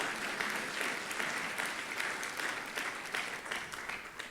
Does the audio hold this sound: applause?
yes